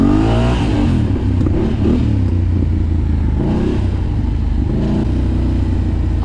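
A Husqvarna motorcycle engine revs up and down on the throttle close to the microphone, loud and continuous with rising and falling pitch, in snowy conditions.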